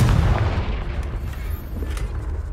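The Confringo explosive spell in the Hogwarts Legacy video game lands as a deep, booming blast with a rumbling low-end tail that holds loud for a couple of seconds, with no voices.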